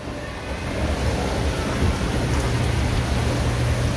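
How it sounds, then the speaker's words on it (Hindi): Light rain drizzles steadily after a heavy shower, heard from aboard the Shalimar Express train on the Faisalabad route, with a constant broadband hiss over a low rumble of the moving train throughout. "एक हैवी रेन शावर के बाद ठंडी हवा में रिमझिम हो रही है"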